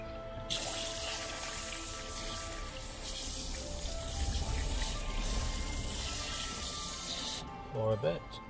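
A tap runs steadily into water to soak plants just taken out of their pots, a continuous splashing hiss that stops near the end, with a person speaking at times.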